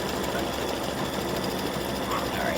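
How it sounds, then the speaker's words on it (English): Embroidery machine running a satin stitch along the brim of an appliqué gnome's hat, a steady close mechanical whir with rapid needle chatter throughout. "So it's doing the satin stitch now."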